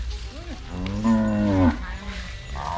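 Cattle on a farm low with one drawn-out moo rising and falling, preceded by a short higher call, close by and fairly quiet against a soft background.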